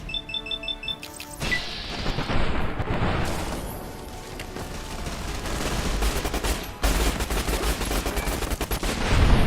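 NCR soldiers open fire in Fallout New Vegas, a loud, continuous barrage of automatic gunfire and overlapping shots with booming impacts, sustained throughout with brief shifts in intensity.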